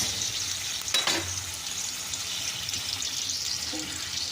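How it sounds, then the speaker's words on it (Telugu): Garlic and tempering spices sizzle in hot oil for a ripe red chilli chutney, a steady, dense frying hiss that continues throughout, with one brief clatter near the start and no talking. "ఇవి వేసేసుకున్న తర్వాత బాగా అయితే వేపేసుకోవాలి"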